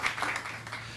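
An audience applauds a singer at a jazz celebration in the Metropolitan Room, a dense, steady patter of many hands clapping together for about a second.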